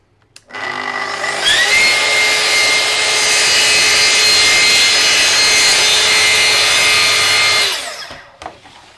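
A plunge saw cuts about 8 to 10 millimetres deep into wood, running past a join. It gives a loud, steady, high-pitched whine and grinding roar that holds for about seven seconds, then winds down, with no talk over it.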